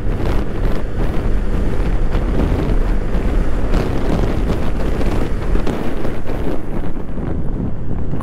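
A Honda Vario 160 scooter with a 160 cc engine accelerating on a test ride, heavy wind buffeting the microphone and masking a steady engine roar throughout, no voices.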